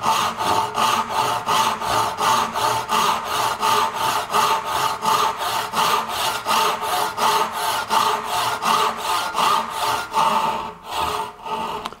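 A hand saw rasps through wood cutting hand-cut drawer dovetails, in steady back-and-forth strokes, about two per second, close and alone, slowing briefly near the end.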